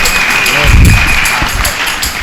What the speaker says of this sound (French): Un applaudissement de Pierre